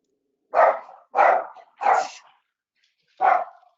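A dog barks four times nearby, three sharp barks in quick succession followed by a pause and one more, loud against an otherwise quiet room.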